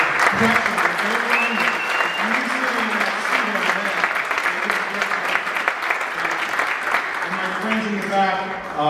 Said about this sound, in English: I want you to give a round of applause for those guys who were here